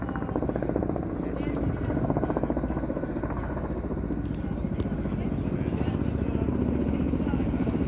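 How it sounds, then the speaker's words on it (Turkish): Helicopters fly over a village near burning woodland, a steady loud rotor thrum with a fast rhythmic chop that holds near and constant throughout, with faint voices underneath. "Helikopterler çalışıyor ama yetersiz."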